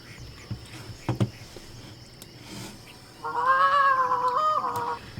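A raspy, honking quack-like bird call in the video game The Hunter Classic rings out for a couple of seconds, preceded by a few scattered knocks and rustles against a steady background hum.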